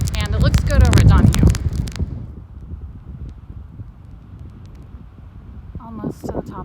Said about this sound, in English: The weather is fine. It's just windy.